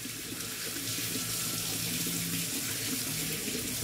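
Running tap water splashes steadily as a Gillette Styler shaver is rinsed under it, a continuous close hiss and gurgle with no talking.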